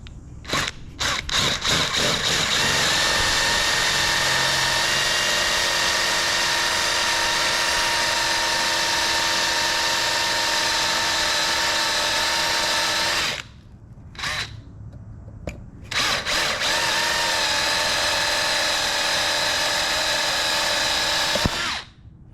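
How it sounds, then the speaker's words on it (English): Loud, steady whine of a power drill boring out a stuck screw on the float bowl of a carburetor from a Polaris Sportsman 500 H.O. ATV, running almost continuously with a few short pauses near the end. "this one is not coming off, so we're gonna have to drill this out"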